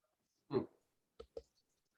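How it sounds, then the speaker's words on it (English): Computer keyboard arrow keys pressed while browsing images in Adobe Bridge: three soft, distinct clicks, a fuller tap followed by two quick lighter ones, close and quiet in a silent room. "Just by hitting the up or down arrows or the left and right keys"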